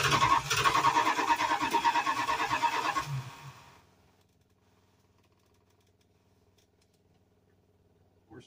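A Mopar 440 V8 engine cranks and sputters loudly for about three seconds, trying to fire up, then cuts out into near silence.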